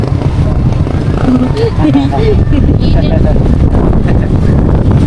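Strong wind buffets a microphone during a long motorbike ride from Manila to Real, Quezon, producing steady, loud, low rumbling with no break. Faint voices can be heard underneath.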